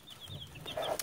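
Young Cornish Cross meat chicks peep and cheep nearby in a short burst. The calls are high and overlapping, with soft clucking-like chatter underneath.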